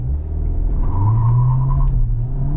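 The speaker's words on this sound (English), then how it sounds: "I'll just show you with a full throttle takeoff." A 2025 Skoda Octavia RS in ESC Sport mode makes a full-throttle takeoff, its engine a loud, close, steady low roar that holds through the launch with a slight rise in pitch.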